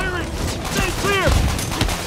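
Rapid gunfire crackles in the Spider-Man video game on PS4, a dense volley of shots mixed with shouting game voices and a few whooshing streaks.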